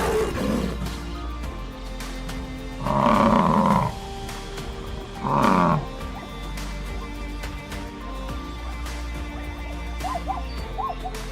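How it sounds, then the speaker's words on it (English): Lions roar on a rainy savannah plain: two deep, resonant roars about two seconds apart over steady rain hiss and low rumble, followed by faint bird calls. "their roars echo through the plains, a chorus of power and resilience"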